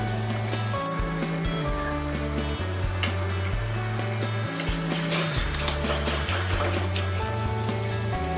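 Spices for chicken biryani sizzle and fry in a pot as they are stirred, a continuous crackling hiss with occasional scraping of the spoon, close-up and steady, under soft background music.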